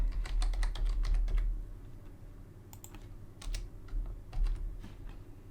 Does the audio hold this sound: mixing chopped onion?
no